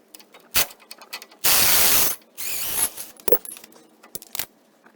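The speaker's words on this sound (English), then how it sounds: "we're gonna go ahead and take this sway bar link off" A ratchet loosens the sway bar link bolt on a 2010 Chevrolet Silverado during a leveling kit install. Sharp clicks come close up, along with two longer bursts of rapid ratcheting and a few metallic knocks.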